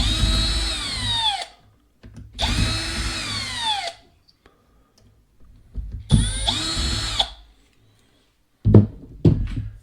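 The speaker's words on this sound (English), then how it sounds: "I'll start with these screws. I'll take these screws out." Cordless power driver backing screws out of the bumper on a Traxxas Summit 1/16 RC truck, three close whirring bursts that wind down, separated by pauses, followed by a couple of short clicks and clunks.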